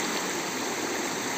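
River water flows steadily, a dense broadband rush with no breaks, near and fairly loud, heard alone without voices at a river crossing during flooding in Tipitapa.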